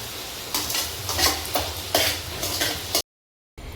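Tomatoes are stirred into a sizzling fried mixture in a pan, with rhythmic scraping and clattering strokes of a spoon against metal about every half second, close and loud, then a brief silent gap.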